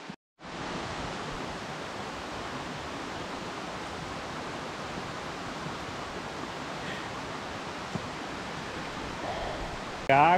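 Running water of a stream at the last water point before the Realengo canyon in Santa Catarina, Brazil, a steady, loud, continuous rush that fills the whole stretch with no talk.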